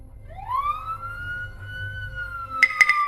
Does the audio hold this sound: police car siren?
yes